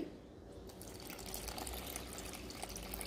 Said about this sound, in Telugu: ఇప్పుడు దీంట్లో మనం వాటర్ యాడ్ చేసుకొని దీన్ని మంచిగా కొంచెం గట్టిగా మురుకులు చేసుకునే పిండి మాదిరిగా మనం కలుపుకోవాలి